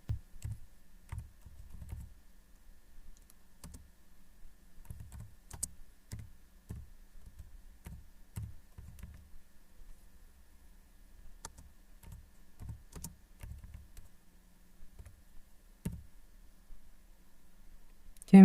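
Someone typing a prompt on a computer keyboard, close and quiet, with irregular bursts of key taps separated by brief pauses over a long stretch and a sharper click at the end.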